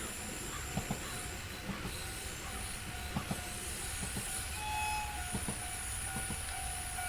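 A train running on the Hidaka Main Line in Train Sim World gives a steady rumbling roll with wheel clicks and rail noise. A faint high squeal drifts in and out over the continuous, fairly quiet drone.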